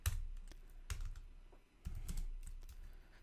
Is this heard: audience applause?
no